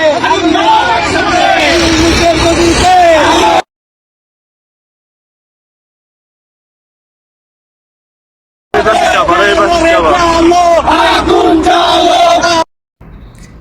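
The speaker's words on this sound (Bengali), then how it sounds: "জয় বাংলা স্লোগানে রাজপথ কাঁপতেছে কিনা" A street crowd at a Bangladeshi political rally chants Joy Bangla slogans, loud massed voices shouting in rhythm, cut by a long stretch of silence before the chanting resumes.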